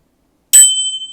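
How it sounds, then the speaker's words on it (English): A single sharp strike on a bicycle-style bell, a bright metallic ding that starts abruptly after silence and rings on with a sustained, slowly fading tone, close and loud. "You gotta hit that bell, boy."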